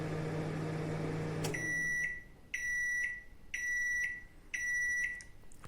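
A Samsung MG23K3515CK grill microwave oven hums steadily, then stops and gives a series of four loud electronic beeps, evenly spaced, close by.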